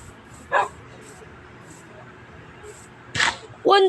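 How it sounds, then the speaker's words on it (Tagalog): In Minecraft, a dog gives three short yips and barks, one early and then two close together near the end, over a quiet steady background. "Uy, yun yung aso."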